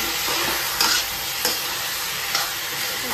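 Crushed ginger sizzles in a hot pan while a utensil scrapes and stirs, with a few distinct clinks against the pan over a constant hiss.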